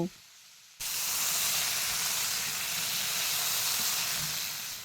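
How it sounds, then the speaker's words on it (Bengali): Cauliflower florets frying in hot oil with salt and turmeric, a steady loud sizzle and hiss that starts abruptly after a quiet moment and carries on evenly, no talking. "এবার এগুলোকে নাড়াচাড়া করে এই ফুলকপিগুলোকে একটু ভালো করে ভেজে নেব"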